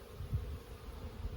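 Dense crowd of honeybees in a thriving urban backyard hive, a low, continuous, faint drone with a few slightly louder passes close by.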